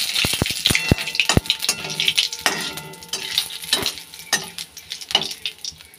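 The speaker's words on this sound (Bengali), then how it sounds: "ভাত বসিয়েছি, ভাত হয়ে যাচ্ছে।" Rice cooking in a pot: clattering metal and utensil knocks over a bubbling, sizzling bed of noise, irregular and close, with several sharp clinks early on and no talking.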